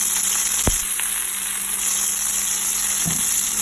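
A ribeye steak fries on a stovetop burner, giving a steady close sizzle with a couple of brief clinks partway through and no talk.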